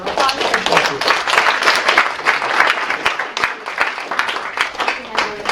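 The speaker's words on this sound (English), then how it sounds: "Round of applause." An audience applauds at the launch of a climate diplomacy week event, with dense, steady clapping lasting several seconds and a voice partly audible over it.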